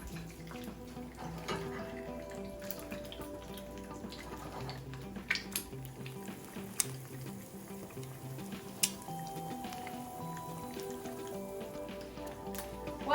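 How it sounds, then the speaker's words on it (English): An egg frying in a pan, its white setting at the edges, with a soft continuous sizzle and scattered small pops and crackles heard close up for several seconds, no voices. "immediately we see the edges of the white beginning to cook"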